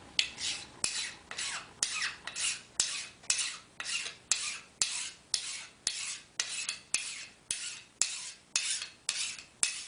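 Hand file rasping a small metal part for a model railway turnout, worked in one direction only: about nineteen evenly spaced, near, bright scraping strokes in a steady rhythm, each stroke separated by a short pause.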